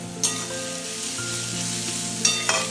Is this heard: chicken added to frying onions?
yes